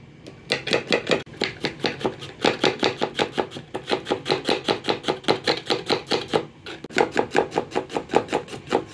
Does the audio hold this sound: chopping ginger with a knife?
yes